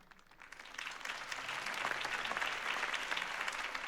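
Crowd applause in a Batman: The Telltale Series game scene after Harvey Dent's campaign speech, swelling from a moderate start into a dense, sustained roar of clapping that stays strong to the end.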